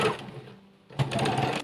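Sewing machine stitching a tubeteika skullcap, a short burst of fast whirring stitches, a pause, then another close, steady run of stitching.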